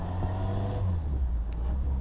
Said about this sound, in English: You can see I'm basically trying to accelerate hard and brake hard